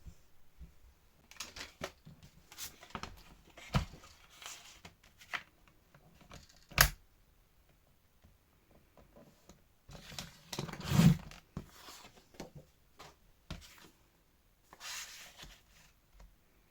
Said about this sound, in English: So I'm going to do that with my trimmer.